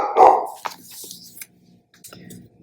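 A dog barks once loudly and close by indoors, followed by fainter yips and rustling in a quiet room.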